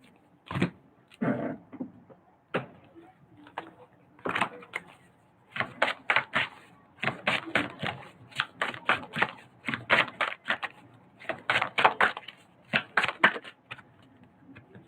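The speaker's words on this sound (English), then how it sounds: "Let me put the guide cards back in there" Guide cards being slid and shuffled back into a box, with a long run of quick papery riffles and taps in bursts, close and moderately loud with short pauses between.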